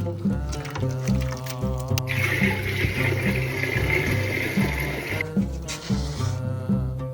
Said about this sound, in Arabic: ايوا نحركو المرميطه ونزيدو الماء